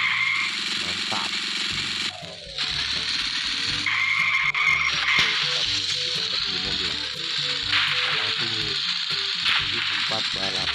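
Cars race in an Android mobile game, with loud engine revving, tire screeches and skids over constant game audio, and no voices heard.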